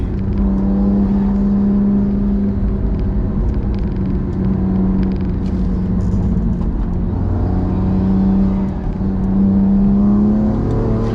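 BMW M2 Competition with the S55 engine accelerating hard, a loud, steady engine drone with deep rumble that swells and holds under load, heard alone without talk.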